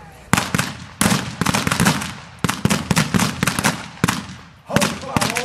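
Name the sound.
gunfire in a Billy the Kid pageant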